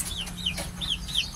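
Chickens cluck repeatedly in coops on a Filipino gamefowl farm, short rising calls coming in a steady series, near and clear over a low background hum.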